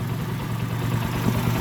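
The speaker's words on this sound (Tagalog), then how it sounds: "Yan mga bro, mandar na yan. Ganda ng andar, oh." A 2011 Rouser 135 motorcycle engine idles smoothly after an engine refresh, a steady, close, even putter with no revving and no voices.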